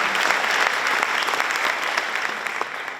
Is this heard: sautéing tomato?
no